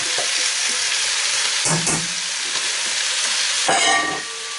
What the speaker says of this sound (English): So just give that a stir.